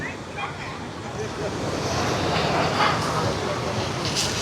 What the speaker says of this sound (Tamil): இரண்டமடு வான்கதவுகள் எல்லாம் திறக்கப்பட்டு தண்ணி எப்படி வருதுன்னு சொல்லி